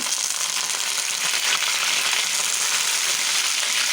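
Loud, steady sizzling of curry leaves frying in hot oil, a dense crackling hiss that continues without a break, and no voices.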